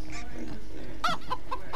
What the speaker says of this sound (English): That's a chicken.